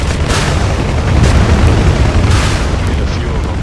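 Rockets explode on enemy ground targets in the DCS flight simulator game, fired from a UH-1 Huey or KA-50 helicopter. The blasts merge into a loud, continuous rumbling roar with dense low booms throughout.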